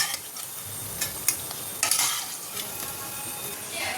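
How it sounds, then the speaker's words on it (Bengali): Lentil fritters (pakora, dal bora) frying in hot oil give a constant sizzle, broken by several scraping, clinking stirs of a utensil against the pan. No voices. "গরম গরম একটু পাকোড়া ভাজা হচ্ছে ডালের বড়া"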